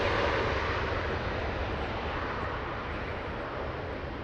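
A JetBlue jet airliner arriving from Orlando roars steadily at Los Angeles International Airport, a broad, continuous engine rumble heard from a spotting position, with no voices over it.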